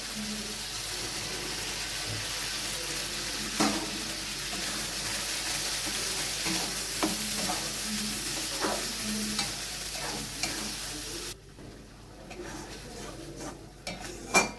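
Spinach paste sizzles and bubbles in oil with cooked-down masala for a palak prawn curry, stirred with soft scraping and clinks of a spatula against the pan, then the frying drops away near the end.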